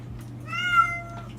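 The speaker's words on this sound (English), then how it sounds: "Hi, kitty cat." A single drawn-out meow from a house cat, rising and falling over about a second, clear and fairly close against a quiet background hum.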